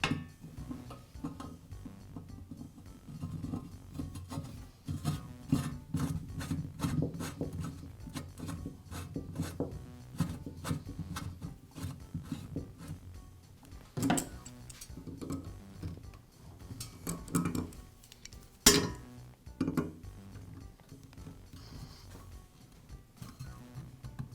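New fishtail point being threaded by hand onto a greased auger shaft makes close, repeated metallic scraping and rubbing with rhythmic ticks, plus a few sharper clinks, and no talking.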